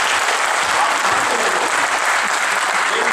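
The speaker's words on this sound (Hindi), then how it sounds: "जोरदार ताली कर" An audience at a political gathering applauds, a dense, loud and continuous wash of clapping from many hands that holds steady from start to finish.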